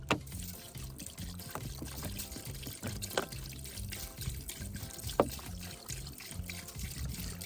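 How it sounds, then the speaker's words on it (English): Water trickles and splashes unevenly into a cooking pot of beef tripe menudo set over open coals, with a few louder sloshes and faint background noise, fairly quiet and close. "we're gonna fill it up with water above the menudo"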